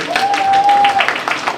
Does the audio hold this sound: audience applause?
yes